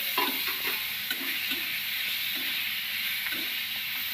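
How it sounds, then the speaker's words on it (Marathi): Tomatoes and crushed ginger drop into a frying cauliflower curry. A steady oil sizzle hisses throughout, broken by faint stirring clinks at a loose rhythm. "हे टमाटे टाकणार आहे."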